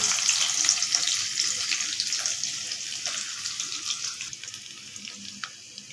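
Chopped large onion added to hot oil with mustard seeds and urad dal, giving a bright continuous sizzle with soft stirring crackles close up, no talking.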